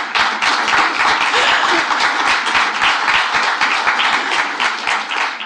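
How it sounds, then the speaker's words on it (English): Steady applause from a conference audience in Zagreb, dense hand clapping sustained at an even level throughout, close and loud with no voices over it. "I would like to ask you to give a big applause to Martina"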